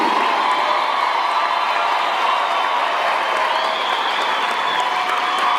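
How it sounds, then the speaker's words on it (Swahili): A church congregation applauding for Jesus, a sustained dense wash of clapping with cheering mixed in, loud and steady throughout. "Tumpe Yesu makofi mazuri"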